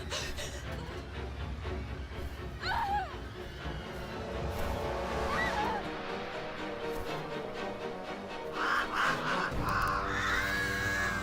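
Crows caw in short harsh bursts during Forspoken gameplay, layered over game music and rumbling effects, with someone talking over them.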